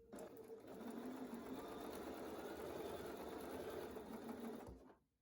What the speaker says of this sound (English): Begin sewing with a 1/4 inch seam allowance.